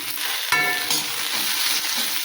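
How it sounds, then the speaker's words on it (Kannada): Okra stir-fried in a pan gives a close, continuous sizzle with a brief scrape of stirring near the start. "ಈಗ ಬೆಂಡೆಕಾಯಿ ಚೆಂದಾಗಿ ಹುರ್ಕೊಂಡೇನಿ ರೀ."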